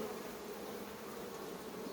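Honeybees buzz as a dense, steady drone during inspection of a ten-frame beehive, the hum continuous and close with no voices over it.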